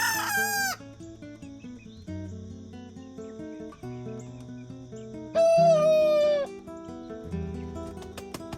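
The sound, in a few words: booted bantam rooster crowing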